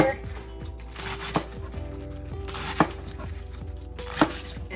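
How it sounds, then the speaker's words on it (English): A knife chops a crunchy vegetable into half-inch strips on a cutting board, three distinct thuds spaced about a second and a half apart over a steady background hum, fairly close. "we're just gonna cut it into probably about half inch strips"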